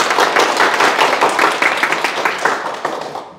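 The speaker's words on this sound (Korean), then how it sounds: "큰 박수 한번 부탁드립니다." An audience claps loudly after a request for a big round of applause at a talk, a dense burst of close hand claps that stays strong and then gradually tapers off toward the end.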